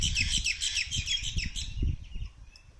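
Birds chirp repeatedly along a local street, a lively cluster of high tweets in the first half that thins toward the end, fairly close with low background rumble and no talk.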